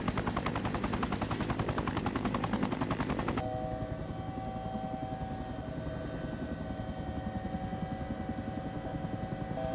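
A helicopter in the Prepar3D V5 flight simulator game: the rotor chops steadily and loudly with a whining engine tone, its sound shifting partway through as the engine note changes.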